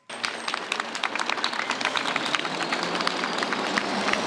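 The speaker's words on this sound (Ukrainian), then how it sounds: "Йому вслід аплодисменти." Steady applause from a crowd outdoors as a bus carrying volunteers departs for Mariupol, dense, continuous clapping of many hands at moderate distance, without pause for the whole span.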